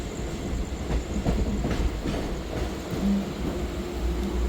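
An almost empty local passenger train runs on Mumbai suburban track toward CST, its carriage rumbling steadily with rhythmic wheel clatter and a faint, brief squeal.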